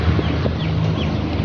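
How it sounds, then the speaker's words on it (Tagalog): Turkey chicks peep in quick, high-pitched cheeps over a busy background murmur of birds on a farm. "namimili na si Sir Jerome ng sisiw ng pabo."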